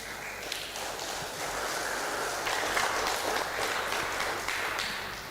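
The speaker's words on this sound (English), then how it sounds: "Let's give a round of applause again to the speakers for their excellent presentations." Applause from a seminar audience on biochar and carbon capture, honoring the speakers after their presentations; a steady, dense wash of clapping that holds at an even level for several seconds.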